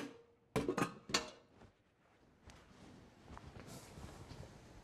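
Steamed mussels in saffron sauce being served into a bowl: a few sharp clinks of shells and a utensil against the dish early on, then softer scraping and spooning.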